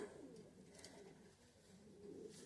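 A grey female racing pigeon coos softly in a loft, with low, quiet throaty calls that swell near the start and again at the end over faint background noise.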